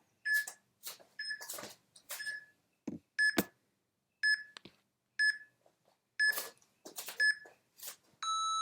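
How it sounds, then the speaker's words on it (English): An exercise timer gives a run of sharp electronic beeps in irregular bursts, clicks and button presses mixed in, ending with a longer sustained tone, close and fairly quiet. "let me get my timer here, and we will start it up"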